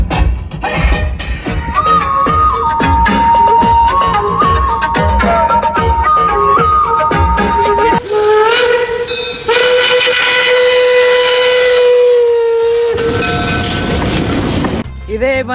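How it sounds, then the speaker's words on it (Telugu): A train sits at a station in the USA, loud and close, with sustained horn- or whistle-like tones and a steady rumble running throughout; some talk is mixed in. "ఇదే మనం ఎక్కబోయే ట్రైన్."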